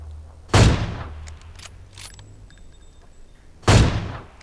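Two sharp, booming gunshots in the mobile shooter PUBG Mobile, spaced about three seconds apart, each with a short echoing tail over a quiet background.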